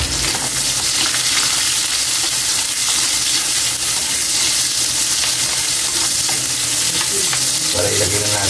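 Chopped onions and chili peppers frying in a hot pan for a milkfish (bangus) dish, a loud steady sizzle and hiss with stirring scrapes, close and continuous, with no talk.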